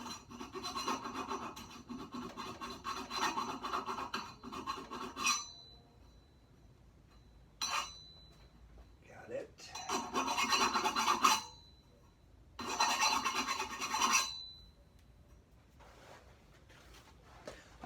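File rasping a steel burr off the edge of a reclaimed wood table, several bursts of fast, harsh back-and-forth scraping strokes separated by short quiet pauses, close and clear.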